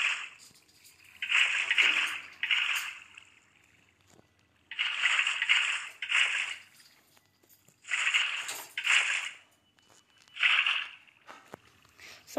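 Water splashes and sloshes in a video game as a bucket is emptied again and again to fill a dam, with five distinct loud bursts separated by quiet gaps.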